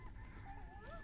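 Chickens cluck softly in the background of a village yard over a steady low rumble, with faint higher calls drifting in and out.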